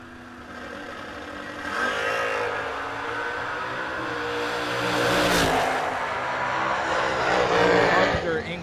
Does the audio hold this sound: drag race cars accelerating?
yes